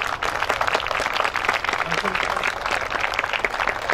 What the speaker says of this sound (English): Let's give a big round of applause to our Hmong uh, female legislator